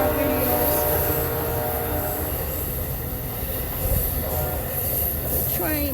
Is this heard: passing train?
yes